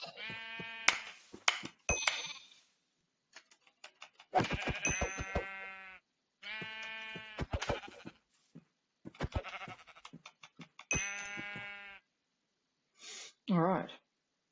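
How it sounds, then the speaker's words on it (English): Sheep in Hungry World, a Web3 Minecraft-style game, bleat in repeated bursts, several overlapping calls clustered with short silent gaps, fairly loud and close, ending with a rougher final call. "So a couple of sheeps there."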